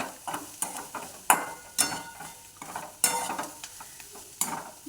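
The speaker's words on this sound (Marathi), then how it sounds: "छान हलवायचं" Guar bean chutney with coriander stirred in a pan, the spoon scraping in repeated close strokes over a soft sizzle, with no talking.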